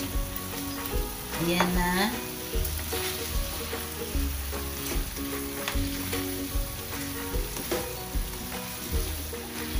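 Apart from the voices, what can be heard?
stirring chicken frying in coconut milk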